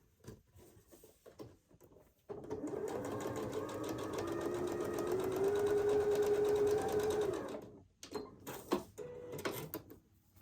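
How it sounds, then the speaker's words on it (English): A sewing machine runs a quarter-inch seam on a quilt block, a steady close mechanical whir lasting several seconds, with brief clicks and handling sounds before and after. "So I'm going to go ahead and sew it."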